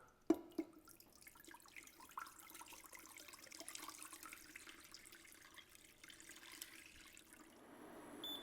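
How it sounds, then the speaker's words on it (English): Water runs steadily into a large pan after a couple of faint clinks, about half an inch poured for coddling eggs, a soft continuous pour that fills the quiet space. "we're going to put about a ½ inch of water"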